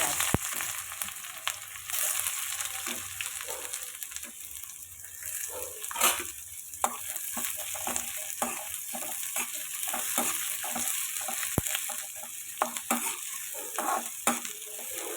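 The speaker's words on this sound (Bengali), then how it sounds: "এইবারে দিয়ে দেব বেশ খানিকটা পেঁয়াজ" Sliced onions and dried red chillies fry in hot oil in a pan, giving a steady close sizzle with stirring scrapes and clicks throughout, for making a pumpkin and flat bean mash.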